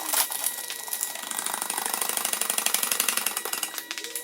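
A power impact tool rattles rapidly on a lug fastener while the left front tire comes off a raised Saab 9-5, a fast buzzing hammering that runs steadily for several seconds, close and fairly loud with no talking.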